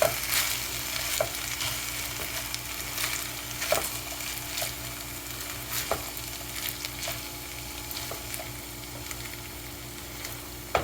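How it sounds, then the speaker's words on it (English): Gentle sizzling of rice dry-frying in a pan without oil, with scattered soft scraping clicks from stirring, steady and close throughout. "So we're just kind of frying it and getting rid of all of the sticky."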